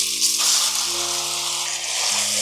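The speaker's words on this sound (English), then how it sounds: "To start, we're gonna fry all the beef." Beef pieces sizzle in a hot pan for a Vietnamese beef stew: a constant bright hiss with faint steady tones running under it, close and fairly loud.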